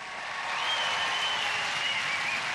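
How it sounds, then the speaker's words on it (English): A crowd at the 1992 UK Gladiators final cheering and applauding, a dense, steady wash of clapping and shouts that swells in and holds loud for the rest of the moment. "Jane acknowledging the cheers of the crowd"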